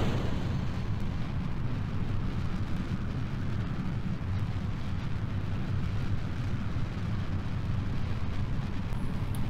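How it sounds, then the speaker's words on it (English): Solid fuel rocket launch in Kerbal Space Program, a loud continuous low rumbling roar of thrust, steady and unbroken throughout. "the Thumper is the biggest solid fuel rocket I have"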